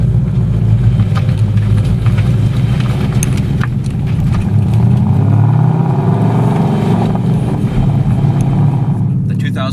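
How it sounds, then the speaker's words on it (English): A Ford Mustang GT V8 fitted with an MRT Interceptor cat-back exhaust rumbles loud and close with a deep, steady, continuous drone, swelling slightly midway before easing, with no speech over it. "So at startup, again, the best way for me to describe it is it sounds like an American V8."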